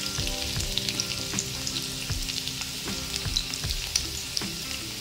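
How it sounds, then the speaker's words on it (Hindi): Garlic frying in hot oil, a steady sizzle with scattered pops and occasional stirring scrapes, close up and with no talking. "तेल हमारा गर्म हो गया, इसमें डाल देते हैं सबसे पहले लहसुन।"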